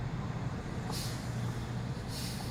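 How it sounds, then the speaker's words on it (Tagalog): A cargo truck ahead on the road hums low and steady, with two brief hissing bursts of air release standing out over the faint traffic rumble. "Kasunod man tayo na itong"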